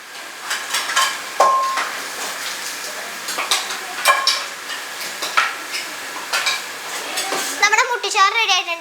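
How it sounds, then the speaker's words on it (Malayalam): Beef bone curry (muttichar) with coconut paste and water being stirred in a pot, a steady series of scraping, clinking strokes with a faint sizzle underneath, close and moderately loud with no voices. "നമുക്ക് ഇളക്കി കൊടുക്കാം."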